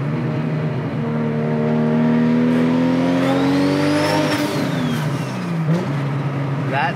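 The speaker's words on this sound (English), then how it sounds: "That's a Tom exhaust, 4-inch pipe." Nissan R34 GT-R with a Tomei 4-inch exhaust revving up close, engine pitch climbing and falling through several loud rises with a sharp drop near the end, people faintly talking underneath.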